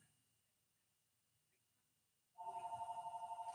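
A phone starts ringing abruptly after a near-silent stretch, its electronic two-tone trill pulsing steadily and fairly loud indoors.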